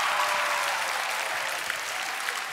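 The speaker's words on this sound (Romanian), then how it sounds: "Aplauze pentru pullover." A comedy show audience applauds steadily, a dense wash of many hands clapping at once that holds at an even level throughout, with no voices standing out.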